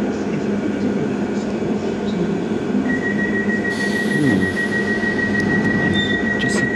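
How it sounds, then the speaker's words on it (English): A London Underground Piccadilly Line train arrives with a loud, continuous rumble, a high steady whine rising partway through, and screeching wheel squeals near the end. "Try and get it coming in. Piccadilly Line going home."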